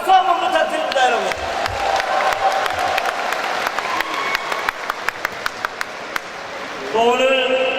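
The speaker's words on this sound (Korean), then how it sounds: "두 분께 다시 한번 박수 한번 부탁드립니다" A crowd at a political party's gubernatorial primary event in a university gymnasium claps and cheers loudly for several seconds. The sound is dense and sustained, with some sharp individual claps, and a voice talks over the start and the end.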